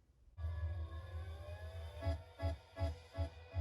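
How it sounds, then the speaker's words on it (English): A siren-like wailing tone rides over a steady low bass in music, with rhythmic beats pulsing in toward the end. "sounds like an ambulance"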